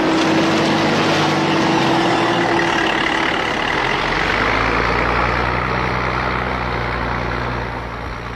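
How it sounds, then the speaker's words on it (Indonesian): Heavy trucks hauling laterite soil for road building in Sumatra: a loud, close diesel engine rumbling and idling steadily, with a brief high hiss early on like an air brake, fading slightly toward the end. "laterit diciduk dan diangkut dengan truk ke jalan yang sedang dikerjakan, meter demi meter."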